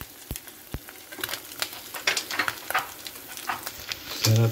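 Squid pieces frying in hot oil, a steady crackling sizzle with scattered sharp pops, close and fairly quiet, without talk.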